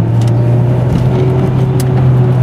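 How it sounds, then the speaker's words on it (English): A loud, steady engine hum from inside a moving car with newly adjusted camber, droning continuously with a constant low tone and road noise throughout. "I'm just driving this car for the first time"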